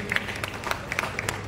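Scattered clapping from an audience at a stage performance held in memory of a guru, with individual claps standing out over a low background murmur.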